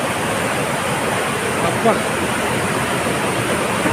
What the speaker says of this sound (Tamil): பாருங்க தண்ணி செம்மையாக வந்துட்டு இருக்குங்க. வேற லெவலாக தண்ணி வந்துட்டு இருக்குல்ல.